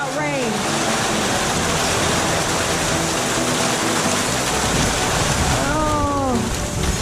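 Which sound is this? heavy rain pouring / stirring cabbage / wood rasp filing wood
heavy rain pouring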